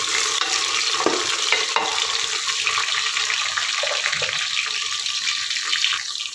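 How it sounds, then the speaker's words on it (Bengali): Green chillies fry in oil with golden brown onions for mutton egg biryani, giving a steady, close hissing sizzle with light crackles and occasional stirring scrapes, and no one talking. "এবার আমি এর মধ্যে কাঁচা লঙ্কাগুলো দিয়ে দেবো। কিছুক্ষণ ভেজে নেব।"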